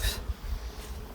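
Honey bees humming around a Long Hive with Langstroth frames, a low, close, continuous buzz over a brief moment.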